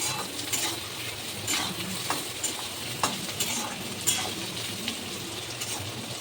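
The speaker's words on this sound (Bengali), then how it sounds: "নুন দিয়ে এবার একটু নাড়াতে থাকবে" Tomatoes with garlic cloves and salt are stirred in a frying pan, a soft steady sizzle punctuated by intermittent spoon taps and scrapes, close and fairly quiet, with no talking.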